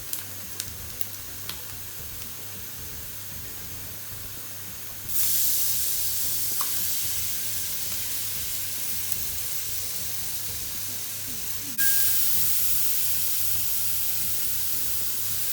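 Crushed ginger and garlic hitting a hot pan for palak chicken curry, a sudden loud sizzle that flares up and holds steady, then surges again with a second addition.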